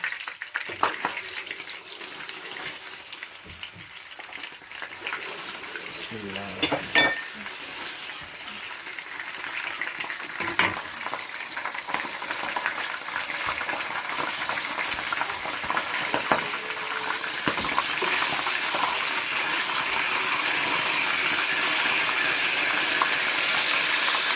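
Cumin seeds sizzle in hot oil at the start of a homemade chana dal and meat dish, a steady, close crackling fry that builds slightly louder toward the end, with occasional stirring clinks and no talk.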